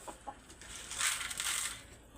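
Chickens being fed, with soft scattered clucks and a brief rustle of feed or wings, faint and close.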